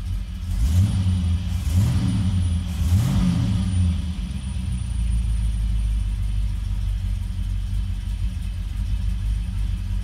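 A Ford Ranchero engine at its first start of the year rumbles steadily, with three quick revs rising and falling in the first few seconds before it settles back to a low, even idle.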